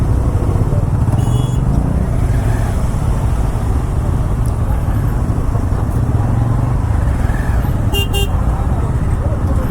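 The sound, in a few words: traffic jam with honking cars and motorcycles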